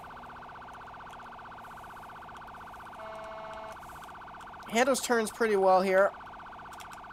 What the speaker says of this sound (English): Turn on a different siren.